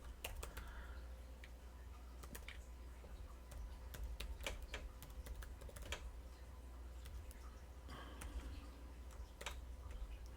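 Quiet, steady typing on a computer keyboard while writing code, irregular light clicks and taps close to the microphone with no talking.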